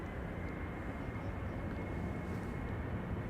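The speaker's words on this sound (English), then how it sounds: "Old school A319s and A320s, they have a whistle" An Airbus A320 jet roars steadily in the distance on takeoff, with a thin high whistle held above the broad engine rumble.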